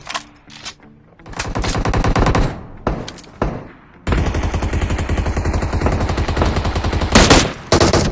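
Gunfire in the mobile battle royale game PUBG Mobile: short bursts of rapid automatic shots at first, then a long sustained volley of loud, close automatic fire with brief gaps.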